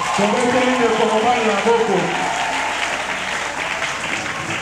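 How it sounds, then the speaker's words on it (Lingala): A wedding congregation at a church nuptial blessing applauds the groom, with loud, sustained clapping from a large crowd that slowly fades, overlapped by voices talking at the start. "Acclamons pour le frère."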